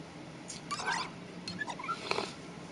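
A house cat makes a few short, faint meows and chirps in quick succession over a low room hiss, with no talking.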